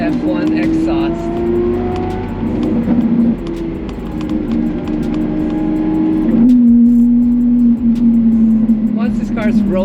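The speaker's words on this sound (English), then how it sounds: "listening to the beautiful F1 exhaust" Modified car fitted with an F1-style exhaust driving on an expressway, its loud droning engine note holding steady then dropping in pitch as the car eases off, close and continuous.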